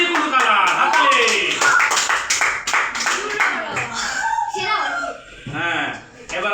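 Children clap their hands during a lucky-draw prize game, a quick burst of close claps mixed with excited kids' chatter and voices throughout.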